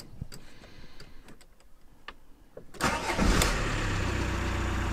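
An Audi A4 engine cranks with the key and catches, settling into a steady idle that comes through loud and close after a few quiet seconds of faint clicks and interior ticking.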